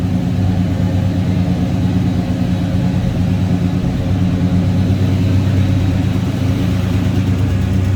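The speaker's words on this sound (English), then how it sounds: "A little rumble coming out of that 350." The 350 V8 in a 1976 Oldsmobile Cutlass Salon idles with a steady, deep, throbbing rumble, loud and close, unchanging throughout with no voices.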